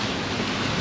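Steady, breathy wind rushing across the microphone during a roadside caravan stop, a dense noisy roar with no voices, constant throughout the short stretch.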